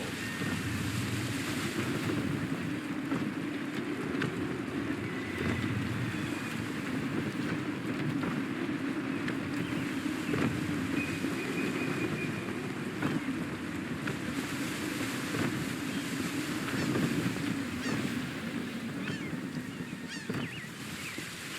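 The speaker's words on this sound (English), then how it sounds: "Stay alert, Connor. Gusty winds can be difficult to manage." Gusty wind roars and waves wash continuously around a sailing ship at sea in Assassin's Creed III, a steady, full rushing bed of sound with faint creaks and no talking.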